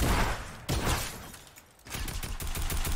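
Bursts of rapid Fortnite gunfire crackle close by, broken by a brief lull before another volley of quick shots.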